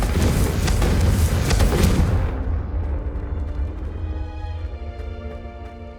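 A Confringo spell explodes in the video game Hogwarts Legacy: a loud, close blast roars for about two seconds, then drops to a fading rumble with a faint ringing tail.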